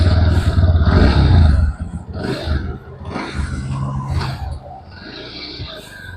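A Bajaj Pulsar NS 160 motorcycle engine starts with a loud roar, then settles and revs in uneven bursts close by, with a few faint voices in the background.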